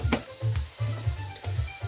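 Fennel seeds fry in a pan for an Indian chicken curry, with a soft crackling sizzle and low bursts of pan noise in a short, uneven pattern, close and without talking.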